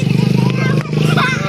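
A motorcycle engine drones steadily nearby with a low throbbing hum, briefly dipping then returning, as people chatter over it in a Filipino street setting.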